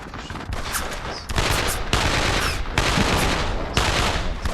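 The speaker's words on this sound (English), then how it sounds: "Assault rifle." Bursts of assault rifle fire crackle in the World War II shooter video game Brothers in Arms: Road to Hill 30, several loud, close volleys cutting in and out across a few seconds amid battle noise.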